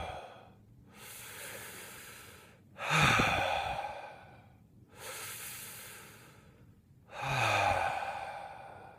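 Slow, deep breathing during a grounding breathing exercise: two long breath cycles, each a drawn-in inhale followed by a louder, rushing exhale with a soft voiced sigh, close and unaccompanied by talk.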